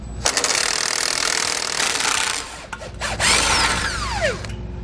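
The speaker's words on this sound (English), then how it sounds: "I'm going to take an 11/16 wrench and hold the nut on the back side while I use a 5/8 socket to remove the bolt." A power tool loosens a bolt on an electric trailer brake assembly with a 5/8 socket, an 11/16 wrench holding the nut behind, giving a loud whirring drive that pauses briefly, then a high squealing whine as the bolt turns.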